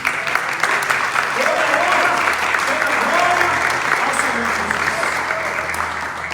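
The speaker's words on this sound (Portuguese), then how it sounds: "Dá uma salva de palmas aí." A church congregation bursts into loud, sustained applause, a dense, even roar of many hands clapping that holds steady throughout with voices faintly mixed in.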